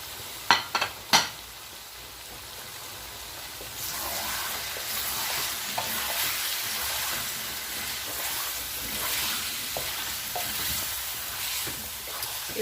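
Tomatoes and mutton fry in oil, with a few sharp clacks of a spoon against the pan at the start, then a steady sizzle and stirring scrapes for the rest.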